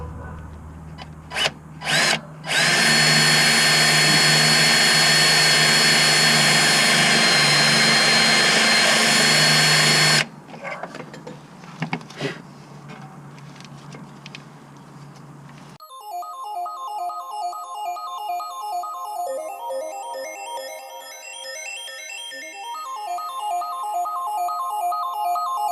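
A power drill running a mini bolt extractor into a broken differential bolt on an E36 M3 grinds loudly and steadily for several seconds after a few short bursts, then stops; later a ringtone-like electronic melody plays alone.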